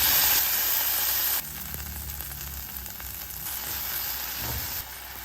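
Garlic, onion, ginger and tomato sauté in hot oil for squid adobo, a dense, steady sizzle and hiss that drops in intensity partway through as the pan is stirred, close and continuous with no talking.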